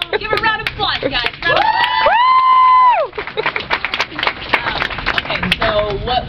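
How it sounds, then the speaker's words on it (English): Clapping and cheering from a convention panel crowd at an anime convention, broken up by whoops and a long sustained voice, with talk mixed through the noise. "Give her a round of applause, guys."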